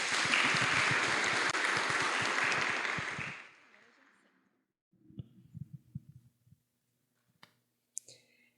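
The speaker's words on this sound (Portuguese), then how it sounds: "Uma salva de palmas" Webinar audience applause bursts in as a dense, loud clatter of clapping for about three seconds, then quickly fades to near silence broken by faint scattered clicks.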